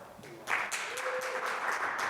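Scattered audience applause in a talk setting: a quiet start, then a short burst of clapping from a modest crowd that settles into a light, steady patter.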